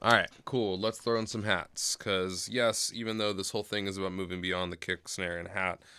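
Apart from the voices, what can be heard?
None of the usual background noises is heard.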